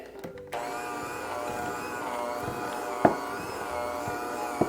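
Electric mixer beaters whirring through almond cookie dough, a steady close motor hum with a couple of brief knocks against the bowl.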